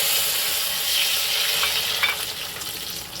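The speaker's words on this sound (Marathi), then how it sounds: "त्याच्यानंतर ही टाकते टॅमॅटो प्युरी." Tomato puree sizzles and spits in hot butter with curry leaves, a loud close frying hiss that holds steady and then eases slightly, with faint stirring and no speech.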